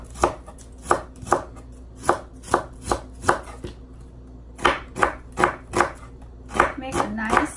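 A knife slices a red onion on a cutting board in a steady run of crisp, close chops about twice a second. After a short pause the chopping picks up again and gets quicker near the end.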